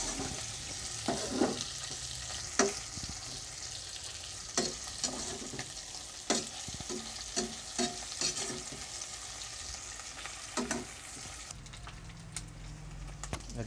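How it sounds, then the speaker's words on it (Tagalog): Pork for humba sautéing in a pan at home, a steady frying sizzle with repeated scraping stirs and clinks throughout, close and fairly loud, fading near the end. "gisahin natin siya."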